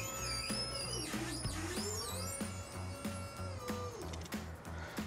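A Snorkel electric scissor lift platform raises with a steady mechanical whine and a rising motor tone, accompanied by faint periodic clicks, fairly quiet throughout.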